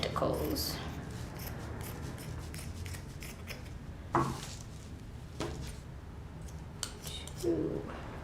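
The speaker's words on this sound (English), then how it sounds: "we're going to take our scissors and do 7 cuts to make our tentacles" Scissors snipping paper into tentacle strips for a craft, several short crisp cuts spaced a few seconds apart under steady room noise, fairly close.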